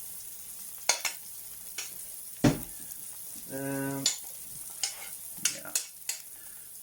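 Sourdough starter pancake batter sizzling in a hot pan, a soft steady hiss under sharp clinks and scrapes of a utensil against the pan, with brief talk.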